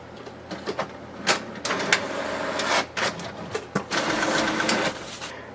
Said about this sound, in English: wait for the printer to print the page